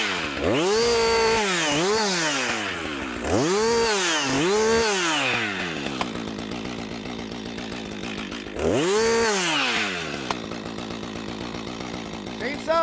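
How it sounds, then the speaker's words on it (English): A chainsaw revs hard in repeated bursts and then drops back to a rattling idle while a tree is being felled, loud and close, with the pattern of revving and idling repeating. "Chainsaws have 2 speeds, idle and full bore."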